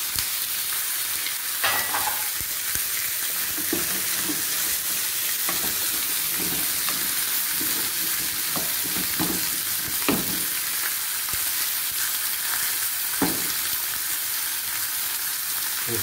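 Carrot and potatoes are tipped into a sizzling sauce base and stirred, giving a continuous loud frying hiss with repeated scraping and clacking spoon strokes up close.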